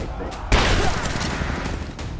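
Gunfire in the video game Rise of the Tomb Raider, a loud close shotgun blast followed by a dense roaring rumble of shots and booms, with a voice talking over it.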